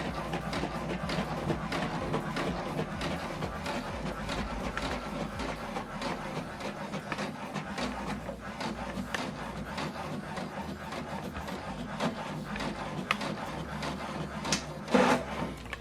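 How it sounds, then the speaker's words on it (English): An HP DeskJet all-in-one printer runs a print job, a steady mechanical whir with repeated clicks and feed rattles that continue for the whole stretch, close by, with a brief louder clunk near the end. "And see it's printing. The first one. So the second one is printing."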